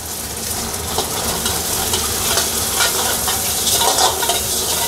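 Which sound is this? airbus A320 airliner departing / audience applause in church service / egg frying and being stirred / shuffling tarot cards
egg frying and being stirred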